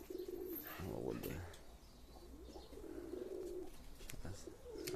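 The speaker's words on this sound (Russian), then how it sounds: "Голуби." Pigeons coo in low, rolling phrases that repeat several times over a steady outdoor background, fairly close and clear, with a few faint chirps mixed in.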